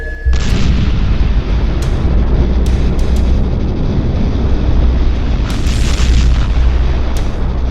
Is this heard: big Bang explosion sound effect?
yes